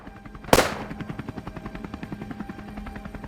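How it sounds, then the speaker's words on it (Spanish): A sharp, loud gunshot cracks out once, followed by a rapid, steady rhythmic thumping that continues underneath as the echo fades. "Sonaron 2 disparos."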